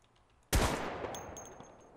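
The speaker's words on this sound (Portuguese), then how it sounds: "Cara, de onde veio esse tiro?" A single sharp gunshot in Minecraft's The Crafting Dead, loud and sudden after near silence, with a decaying tail and a few faint clicks afterward.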